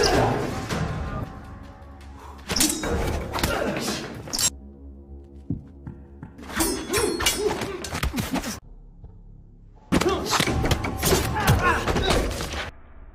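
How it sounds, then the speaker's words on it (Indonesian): Thuds and blows from a fight scene in the action film Mission Possible (2021) come in three loud, dense bursts of impacts separated by near-silent pauses. "Lalu datang Xiorong, tak pelak lagi terjadi perkelahian"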